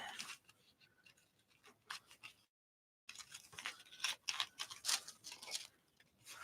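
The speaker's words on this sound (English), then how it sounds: "All right, let's cut them up." Scissors snip through fabric washi tape in quick, crisp cuts, close and quiet, in two bursts separated by a short silent gap, with no talking.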